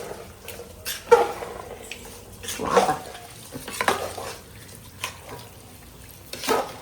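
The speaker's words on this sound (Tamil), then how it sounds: "அரிசி சேர்த்துட்டு அரிசியோட வந்து பார்த்திங்கன்னா நல்லா கிண்டி வச்சுக்கலாம்" Rice is stirred into mutton biryani in a pot, giving intermittent scraping and clattering strokes of a spoon against metal over a faint background, several separate bursts spread across the moment.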